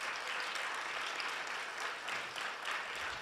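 A forum audience gives the speakers a round of applause, a continuous even wash of clapping heard from within the room, fairly soft and without talk.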